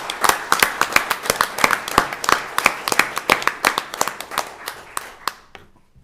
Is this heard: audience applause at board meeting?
yes